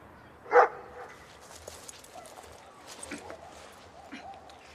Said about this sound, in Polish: To przecież tylko pies tylko.